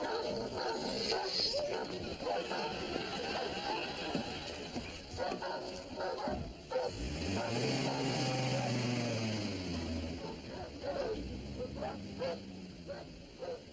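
Several dogs bark and yip in a busy indoor scene from a sitcom, their sharp calls scattered through the clip amid voices and background noise, with a long low tone rising in the middle.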